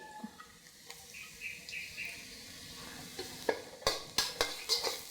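Garlic is added to hot oil with softened onion in a pan for Indonesian fried rice; a soft, faint sizzle is followed by a run of sharp, close spatula scrapes and clinks against the pan.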